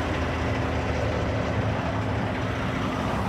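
A less-than-truckload freight truck's diesel engine idles steadily nearby, a continuous low rumble with a faint steady hum and no speech.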